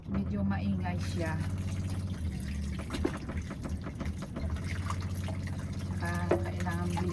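Water drawn at a campsite at Walton-on-Thames pours steadily and quickly into a container, a continuous gushing flow with a hum underneath, while someone talks over it throughout.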